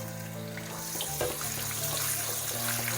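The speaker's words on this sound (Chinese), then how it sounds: "油热，放入生姜、大蒜、小米辣" Ginger, garlic and bird's eye chili frying in hot oil in a wok while cooking celery beef stir-fry; a steady close sizzle and crackle runs throughout with a few sharper pops.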